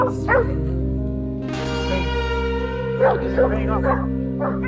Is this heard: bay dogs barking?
yes